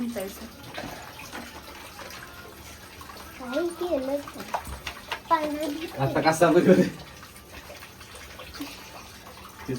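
Water is poured in splashes over a dirty pet during a bath with shampoo, with running and gushing sounds under people talking nearby.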